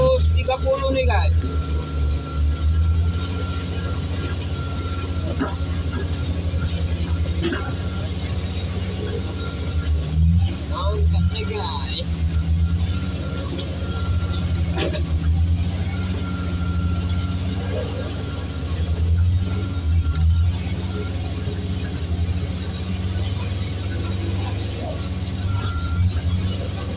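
A loaded Hino canter truck carrying palm fruit bunches rumbles with a steady low diesel engine drone, with people talking over it.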